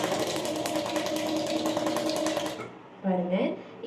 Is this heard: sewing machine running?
yes